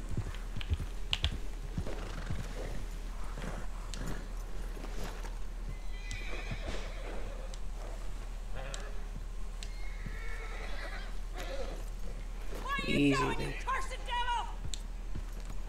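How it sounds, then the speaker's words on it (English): A horse in the video game Red Dead Redemption 2 whinnies loudly near the end, after steady clip-clopping hooves throughout, with people talking and keyboard clicking. "I was just trying to get the horse to calm down."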